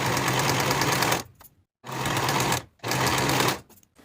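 A sewing machine stitches the center back edges of a fabric bodice in three steady bursts, each about a second long, separated by short pauses. The whirring is close and loud.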